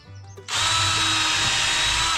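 A power drill bores pilot holes in deck boards, spinning up abruptly after a brief soft click and then whining loudly and steadily up close.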